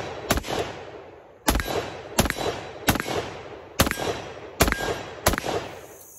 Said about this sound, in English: let's step back a little more and see if we can hit some more rounds downrange